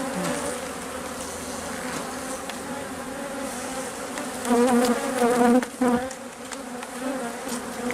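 Honey bees buzz steadily around an opened hive during a queen check, a dense continuous drone close by that swells louder for a moment midway.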